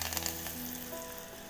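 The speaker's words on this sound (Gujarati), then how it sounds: "હવે એમાં આપણે લીમડાની પત્તી ઉમેરીશું" Curry leaves hit hot oil in a tempering with cumin, asafoetida and turmeric for Kathiyawadi vaghareli khichdi, giving a brief, steady crackling sizzle, close and fairly quiet with no voices.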